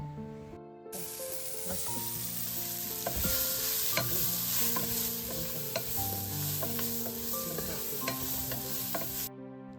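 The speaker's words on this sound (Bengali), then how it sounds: "এবার ওগুলোকে কড়াই থেকে তুলে নিয়ে তার মধ্যে আরও কিছুটা তেল দিয়ে কিছুটা পেঁয়াজ কেটে রেখেছি সে পেঁয়াজগুলো ভেজে নেব" Sliced onions frying in oil in a wok for chicken biryani, a steady close sizzle with rhythmic scraping and clinking from stirring throughout, without any talk.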